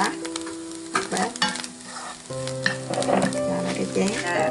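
Shrimp frying and being stirred in a pan for a Vietnamese bún thang, with a steady sizzle broken by scraping stirs and a background musical hum.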